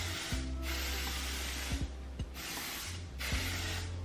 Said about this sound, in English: And then I just take my hairspray, just any hairspray that you have,